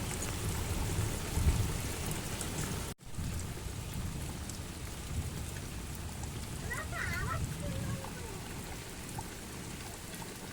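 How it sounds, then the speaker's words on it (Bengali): Steady rain falling during a dark thunderstorm, a continuous broad hiss of drops at moderate distance with a few faint spattering ticks, alone and fairly quiet. "শেষমেশ বৃষ্টিটা হয়েছে"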